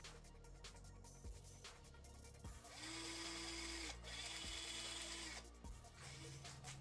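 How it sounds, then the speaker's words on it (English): A power drill whirs in short bursts, spinning a minigun's barrel cluster, revving up and stopping several times, with a mechanical spinning rattle close by. "you can see the concept of how the barrels spin with a drill."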